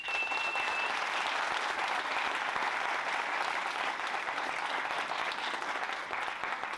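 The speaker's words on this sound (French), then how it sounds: "je voudrais s'il vous plaît que vous vous applaudissiez très très fort" Conference audience claps loudly, a thick steady wash of applause that continues for nearly seven seconds without a break.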